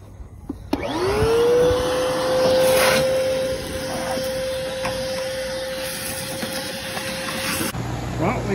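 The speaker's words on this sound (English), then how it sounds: "Gonna vacuum clean this up." A vacuum cleaner whirs up to speed and runs with a steady high whine for several seconds before cutting off abruptly, cleaning inside a short school bus being converted.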